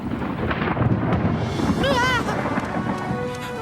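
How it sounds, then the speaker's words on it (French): A thunderstorm rumbles with rain and wind noise throughout, while a brief tonal cry or call rises in the middle before the storm fades slightly. "L'orage, enfin."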